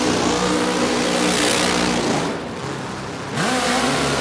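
A loud nitro drag racing motorcycle engine revs hard and holds high, drops briefly to a lower idle, then roars back up at the start line; close and continuous.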